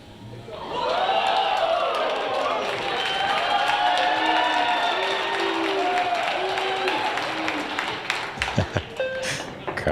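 A crowd at a mixed doubles pool match breaks into sustained applause and cheering, loud and continuous for several seconds before settling into scattered claps and whoops, with a commentator's voice heard over it.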